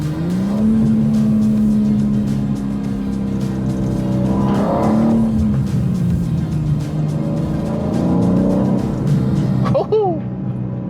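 A BMW M2 G87 with its S58 engine pulls and accelerates on the road, the engine note rising and falling in sweeps across the run, close and loud throughout.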